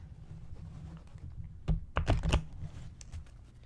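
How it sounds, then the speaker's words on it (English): Oracle cards from a Crystal Medicine deck being shuffled by hand, a soft low rustle building to a quick cluster of sharp riffling snaps in the middle, close up. "I love these cards, but they are hard to shuffle."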